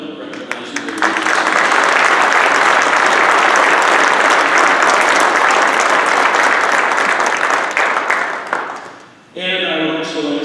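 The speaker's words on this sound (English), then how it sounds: "now ask for a round of applause for Fran and Bill" Loud, sustained audience applause fills a hall at an annual cooperative meeting, holding steady for about nine seconds before fading, after which a voice begins speaking.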